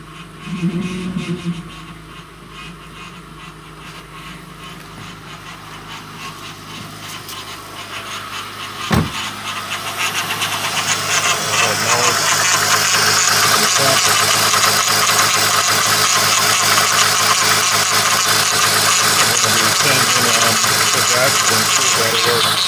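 A 2003 Honda Odyssey engine idles with a rising whine from a noisy power steering pump, growing louder and steadier after a sharp knock partway through, continuous mechanical noise up close.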